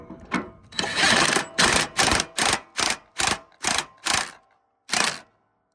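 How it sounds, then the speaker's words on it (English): Ratchet or driver tightening a nut to raise a mower deck, a run of short mechanical bursts, evenly spaced and close, with a final single burst after a pause. "Now I'm gonna put that nut back on, and then when I tighten it down,"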